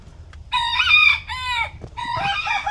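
Several Leghorn hens cluck and squawk in bursts inside a chicken coop, close by, with short pauses between calls over a low background hum.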